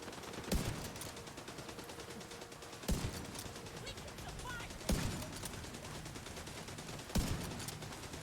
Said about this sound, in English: just non-stop shooting going on from 2 LMGs